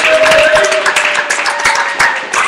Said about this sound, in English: Clap it up for tab team.